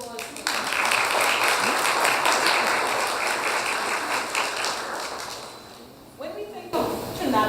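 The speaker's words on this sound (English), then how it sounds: "Let's give ourselves a round of applause." Dense audience applause rolls through a hall for several seconds, steady and full before tapering off, then a speaker's voice comes back in at the end.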